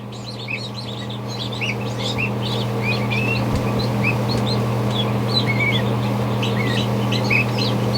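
A newly hatched gosling in an incubator peeps in rapid, high-pitched chirps that repeat steadily over a constant low electrical hum, close and fairly loud.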